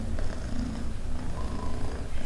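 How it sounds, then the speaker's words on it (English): A friendly kitten purrs steadily while resting close by on a lap, a soft continuous low rumble with gentle rhythmic pulses, heard alone and fairly close. "You hear her purring?"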